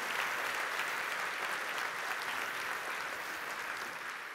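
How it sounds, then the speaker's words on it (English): A conference keynote audience gives a warm, dense round of applause for founders welcomed on stage, steady and sustained throughout, tapering slightly at the end, with no talk over it. "Please give them a warm round of applause and a welcome to the Clio family"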